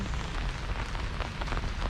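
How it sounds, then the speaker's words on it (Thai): Heavy storm rain beats down steadily at an old temple site in Ayutthaya, a dense, loud, continuous hiss and patter of drops on surfaces with no pauses. "ฝนนี่น่าจะแรงขึ้น"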